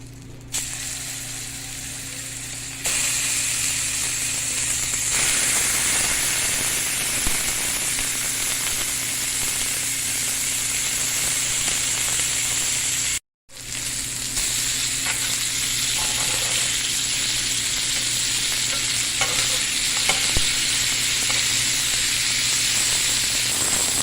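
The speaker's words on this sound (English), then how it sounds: "All right, that sizzle speaks for itself." Fresh cut beef sizzling in butter in a hot pan, a loud, steady frying hiss that fills the whole stretch, with a brief cut near the middle and no talking.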